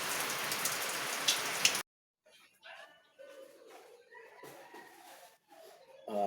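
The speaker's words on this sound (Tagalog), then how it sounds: "pero malakas po itong ulan na to." Heavy rain pours down loud and dense for under two seconds, then cuts off abruptly. Quiet voices talking follow in the near silence.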